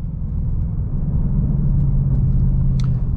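A 2020 Ford Mustang Bullitt's exhaust in quiet mode gives a steady, muffled low rumble from inside the moving car, continuous and fairly loud with no talking.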